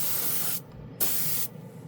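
A cheap Harbor Freight spray gun sprays 2K paint in two long, loud hissing bursts separated by a short pause, with a third burst starting at the end.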